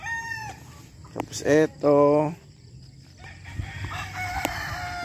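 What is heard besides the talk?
bulik gamecock rooster crowing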